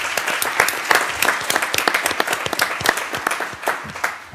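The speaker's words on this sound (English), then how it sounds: "I think it would be appropriate if we could just give Tremelle a round of applause" A crowd applauds steadily for several seconds at a city council meeting, dense overlapping claps filling the room with no talking.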